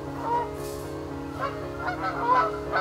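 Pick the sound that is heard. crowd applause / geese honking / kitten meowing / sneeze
geese honking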